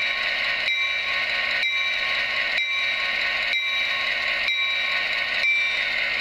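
A bright mechanical model train bell rings in a steady, evenly spaced rhythm, each strike ringing briefly before the next, continuous and fairly loud with no talking.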